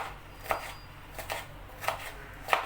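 Several separate knife chops through peppers against a board, roughly evenly spaced, close by and soft, with no voices.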